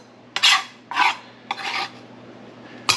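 Roasted pumpkin seeds go into a mortar in four separate gritty rasps, each lasting a fraction of a second, close and clear over a faint background hum.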